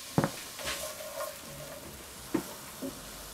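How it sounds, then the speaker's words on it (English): Garlic, pepper, onion and scallion sauté in a pan of oil and butter, giving a soft steady sizzle broken by a few distinct clinks and stirring knocks. "We're just going to put in our garlic pepper and onion, scallion as well."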